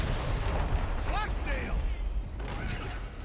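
A grenade blast and heavy gunfire in the Darktide video game, a continuous loud barrage with booming hits and mechanical clatter, with someone talking over the fighting.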